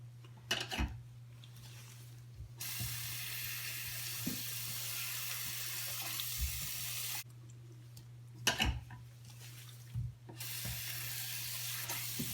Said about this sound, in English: It might take 2 or more filling of water before the water returns clear.